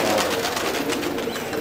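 Pigeons in a loft coo in a soft, continuous murmur, close and fairly loud for a brief moment, with no voices over them.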